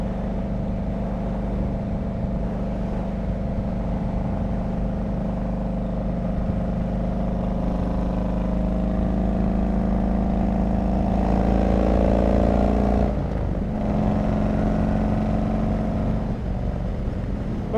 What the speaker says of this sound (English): the only time you hear the exhaust, see how I'm like slowly rolling on?